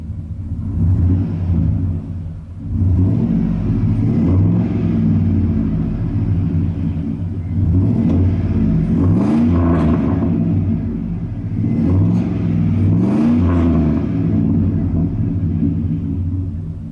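A 2003 Chevrolet Silverado 2500 WT pickup truck engine idles with a low rumble, then revs up several times in rising and falling surges, close and loud with no voices.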